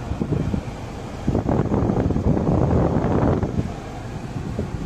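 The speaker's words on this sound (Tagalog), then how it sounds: "Sagad din natin yung fan." The AC blower fan of a Holden Captiva runs at maximum inside the cabin, producing a loud, steady rush of air that swells slightly in the middle.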